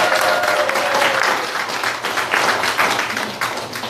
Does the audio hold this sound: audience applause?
yes